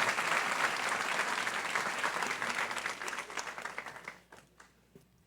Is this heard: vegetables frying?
no